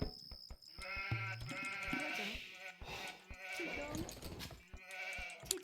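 Sheep bleating in a real-time strategy game, several short bleats repeating over game music and interface clicks, moderately loud and steady throughout.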